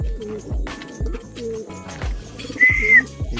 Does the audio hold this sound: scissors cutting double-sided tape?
no